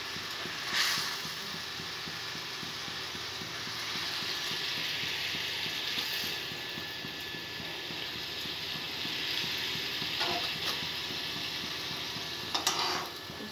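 Raw kantapona fish with tamarind cooking in a pan, a steady soft sizzle and hiss with occasional scraping stirs, close and fairly quiet, with no talking.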